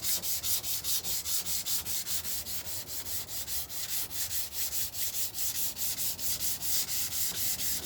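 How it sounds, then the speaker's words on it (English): Sandpaper rubs back and forth over a glass cast resin guitar top in a steady, even rhythm of repeated strokes, soft and close with no talking. "you've just got to resign yourself to hours of sanding."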